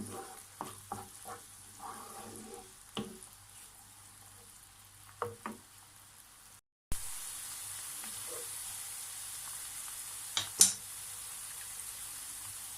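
A vinegar spaghetti sauce with grape vinegar cooks in a pan, a faint steady sizzle with occasional soft clinks and stirring scrapes, no talk.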